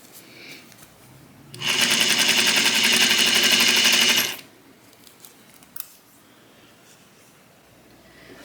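A sewing machine stitches jacket fabric in one rapid, even burst lasting about three seconds, bracketed by quiet room tone and a few small clicks.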